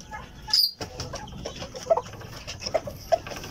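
Backyard chickens feeding, with steady clucking and pecking close by, a sharp squawk early on and scattered soft calls and scratching throughout.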